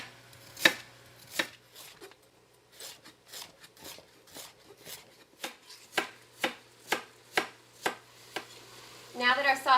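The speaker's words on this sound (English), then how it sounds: "Also going to slice up a few of these carrots here." A knife slices carrots on a cutting board, cutting steadily in a string of crisp, close taps that speed up toward the end, with a voice briefly heard at the start.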